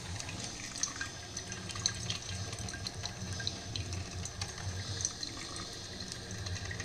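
Tap water running steadily at close range while coffee is being prepared, a continuous splashing hiss with small drips scattered through it and no voices.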